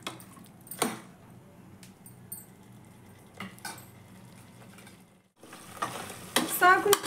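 Onions fry for mutton sambar with a faint background sizzle, broken by intermittent utensil scrapes and clatters. After a brief near-silent dip, the frying swells louder and brighter near the end.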